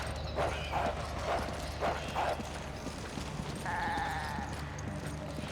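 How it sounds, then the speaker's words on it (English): A goat bleats inside the Resident Evil 5 labs, a wavering, strained cry near the end that follows several soft hoof-like clops over a steady low game hum. "That's a goat."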